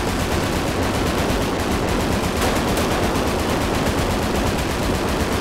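Rapid automatic gunfire from the video game GTA 5 in a zombie survival apocalypse mode, loud and continuous, a dense unbroken barrage of shots with no talking.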